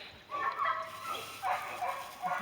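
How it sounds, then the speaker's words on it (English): Several dogs bark outdoors in the woods near a house, a few short bursts at a moderate distance, with faint room noise in between and no talk. "There goes the dogs again."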